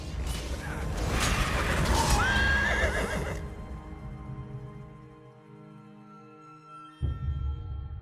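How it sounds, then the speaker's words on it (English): Horses in the video game Elder Scrolls Online whinny loudly up close amid clopping hooves and mechanical clatter, then the sound fades to a quiet tonal backdrop, broken by a sharp thud near the end. "Come, I acquired horses to speed us on our journey."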